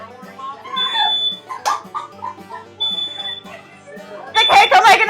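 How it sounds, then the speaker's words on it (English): Indoors, a smoke alarm gives short, high-pitched electronic beeps, repeating three times under steady conversation and some louder chatter. "Gloria, will you come set my fire alarm off?"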